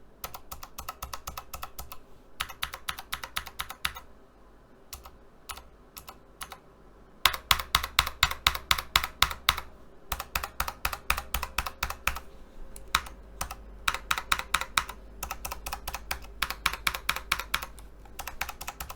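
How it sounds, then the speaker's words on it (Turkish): Razer BlackWidow TE V3 and Razer Huntsman TE mechanical keyboard keys, with and without o-ring dampeners, pressed in quick bursts of sharp clicks, some sets louder and clackier, others softer and more muted, with brief pauses between runs. "Şimdi o ring olmayan F5'e basacağım. Bir de o ring olan F4'e basacağım."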